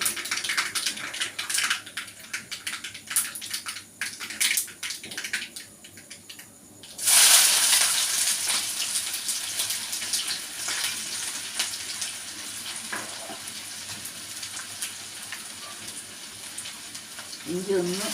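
Ginger hitting hot oil in a pan after mustard seeds have spluttered, a loud sudden sizzle bursting in partway through and settling into a steady frying hiss, with lighter clatter before it.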